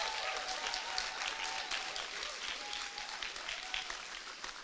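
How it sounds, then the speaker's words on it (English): Graduates at a human rights graduation ceremony applaud their families and supporters, a steady wash of many hands clapping at moderate distance throughout, with a faint tonal hum underneath. "I would like to ask our graduates to applaud their families, friends, partners, and spouses for their support over the years"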